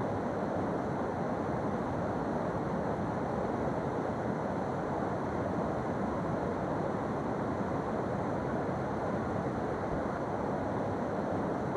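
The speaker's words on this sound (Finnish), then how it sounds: "Tuo on hienoa tää kosken tohinnan ääni täällä taustalla." Continuous broadband roar of the Kiutaköngäs river rapids in Kuusamo, Finland, steady and dense, with no talking.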